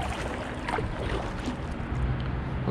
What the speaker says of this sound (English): Time to get paddling, let's go.